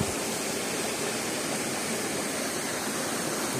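Waterfall at Batu Ferringhi on Penang pouring over rock, a loud, steady, unbroken rush of water heard up close with no voices.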